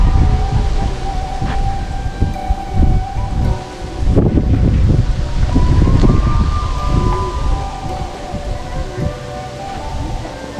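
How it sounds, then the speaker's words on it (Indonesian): Strong wind blows by the Citanduy river among bamboo, buffeting the microphone in loud, continuous roaring gusts, while faint tonal sounds drift in the distance. "Anginnya sangat ngegelebu"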